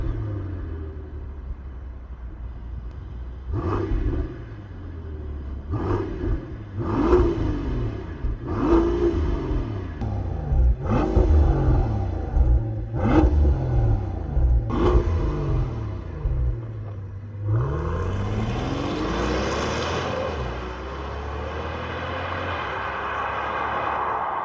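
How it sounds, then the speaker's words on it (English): A 2025 Mercedes-Maybach S680's V12 engine and exhaust give a series of deep, bassy revs in short bursts, each swelling and falling away, then one longer rising rev near the end, all close and clear with no talking. "that's how the car sounds"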